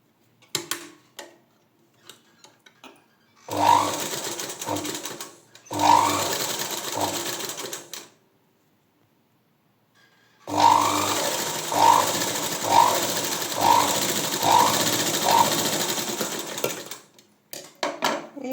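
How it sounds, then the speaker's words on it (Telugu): Electric sewing machine stitching fabric for dori hangings, close and steady whirring in bursts, two short runs then a longer one, separated by pauses with faint clicks. "ఇలా స్టిచ్ చేసుకున్న తర్వాత ఇలా ఫోల్డ్ చేసుకోండి ఇలా డబల్ స్టిచ్ వేసుకోవాలి"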